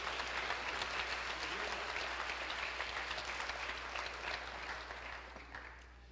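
A church congregation claps together in a sustained, dense round of applause that holds steady and then gradually tapers off.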